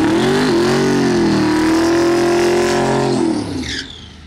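A turbocharged LS-swapped Honda race car launches down the track, its engine roaring loud and close in a steady, rising wail before the note drops away and fades as it pulls off.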